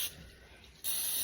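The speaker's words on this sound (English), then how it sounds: "I'm gonna get this out of the way so you guys can see me spraying it" Cooking spray hisses from an aerosol can into baking pans for brownies, a short close burst at the end after a quieter stretch of low hiss.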